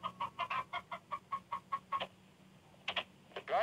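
Chickens in a Borneo village cluck in a quick run of about a dozen sharp, evenly spaced notes, then pause before a few more louder calls, heard close and alone.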